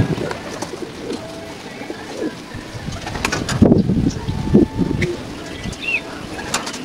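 Racing pigeons coo in a loft after a hard race, with soft repeated coos and a few chirps rising over steady background noise, a couple of louder calls near the middle.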